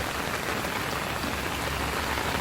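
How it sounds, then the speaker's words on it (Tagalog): Continuous rain falling, a thick uniform hiss of many drops hitting a surface, with no other sounds. "Ayan na, umuulan"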